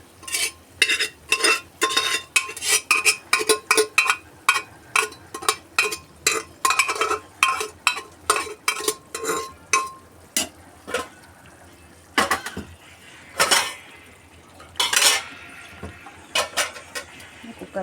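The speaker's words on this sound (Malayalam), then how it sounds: "കുക്കറിൽ കുറച്ച് മസാലയൊക്കെ ഉണ്ടാക്കൊന്ന് വഴറ്റിയെടുക്കുകയാണ് ഞാൻ." A ladle scrapes and knocks rhythmically inside a pressure cooker as masala for chicken curry is stirred, with about twenty quick, even strokes followed by slower, irregular scrapes and clinks close by.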